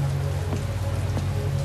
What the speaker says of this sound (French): Sous une pluie torrentielle